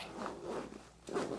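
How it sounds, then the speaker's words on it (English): A zipper being pulled open on the main compartment of a sniper rifle bag, two soft rasping drags close up with a short pause between them, quiet and alone. "I got just zippers everywhere"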